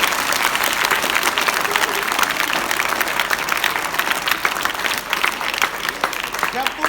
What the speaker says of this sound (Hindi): ताड़े बजाओ बेटा जोरदार